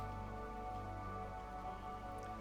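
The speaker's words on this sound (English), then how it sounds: "if only it wasn't raining" Steady rain falls in the video game Kingdoms of Hunterra, a soft continuous patter under a sustained droning game soundtrack, with no voices.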